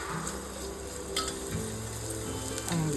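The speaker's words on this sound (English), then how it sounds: "I'm adding a half spoon of ginger garlic paste. So and then again just stir it for that aroma" Ginger garlic paste being stirred into hot oil in a curry pan, giving a steady close sizzle and frying hiss with brief scraping strokes of stirring throughout.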